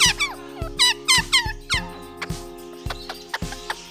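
Pet parrot making a series of quick, squeaky kissing and smacking noises in short bursts, close and fairly loud, with faint tonal background sound beneath and no speech.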